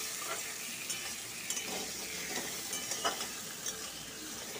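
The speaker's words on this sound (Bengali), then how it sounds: "আলুগুলোকে দিয়ে একটু ভালো করে ভেজে নেব।" Potato pieces fry in hot oil in a pan, a constant crackling sizzle broken by soft scrapes and clinks as the pieces are stirred, with no one speaking.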